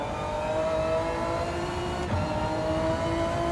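Honda NSX engine in Gran Turismo 7, a sustained high revving drone that holds steady with a slight dip partway through, loud and without talk.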